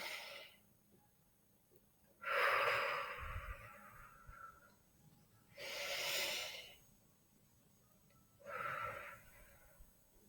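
Three slow, deliberate breaths of box breathing, each a loud, airy inhale or exhale lasting about two seconds, separated by quiet pauses, with no talking.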